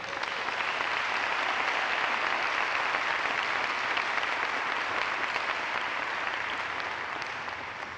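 A school auditorium audience at a National Honor Society ceremony gives junior and senior students sustained, dense applause. The clapping stays loud and even for several seconds and then tapers slightly at the end.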